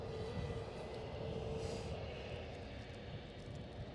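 A British Airways airliner departs Edinburgh airport for London Heathrow, its engines making a continuous, broad rumbling roar that holds steady throughout at a moderate distance.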